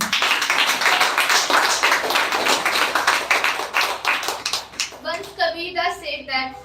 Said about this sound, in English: please welcome with a huge round of clap